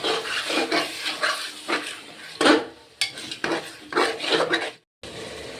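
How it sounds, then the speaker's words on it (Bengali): Mutton being stirred in a pot for curry, with repeated close scraping and clanking of a utensil against the metal in an uneven rhythm, ending in a brief pause. "মটনটা দিয়ে ভালো করে নেড়ে চেড়ে নিতে হবে"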